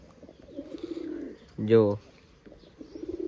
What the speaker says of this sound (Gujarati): કબૂતરા બધા હેઠે છે જો